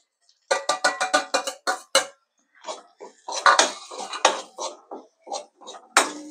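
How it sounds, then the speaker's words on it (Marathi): A metal spoon knocks sharply against a pot while ground masala paste and spices are stirred together for crab masala, making loud, rhythmic clinks in close bursts separated by short pauses. "आणि सर्व वाटण आणि मसाले एकजीव करून घेऊया मित्रांनो."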